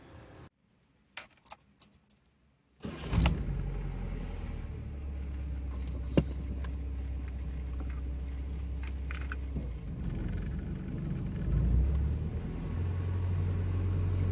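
Keys jangle briefly, then the engine of a Ford Del Rey with a faulty automatic transmission that won't engage reverse starts and idles with a steady low rumble, rising slightly as the engine is revved near the end.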